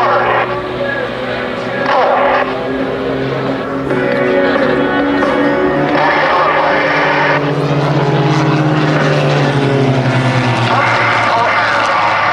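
Aerobatic propeller aircraft from the Iron Eagles team at an airshow, engines roaring loud and close with pitch sweeping down as they pass head-on on their sides, while an announcer talks over the noise.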